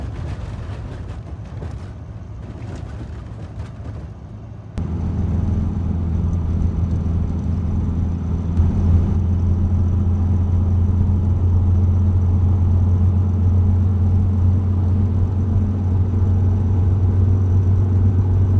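Van engine labouring uphill in third gear at about 35 miles an hour on a winter road, a steady loud drone that deepens and strengthens partway through, with no talking.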